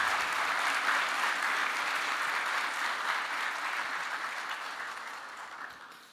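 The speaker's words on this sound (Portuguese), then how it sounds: "Agradecemos com um forte aplauso ao Dr. Alessandro Gadioli." Sustained applause from an audience at an engineering symposium, dense steady clapping throughout that gradually fades toward the end, with no talk over it.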